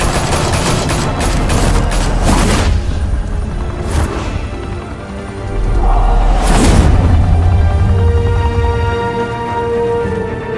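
Dense gunfire in the Batman: The Telltale Series video game, continuous loud bursts and booms layered with crashing effects and a heavy low rumble throughout.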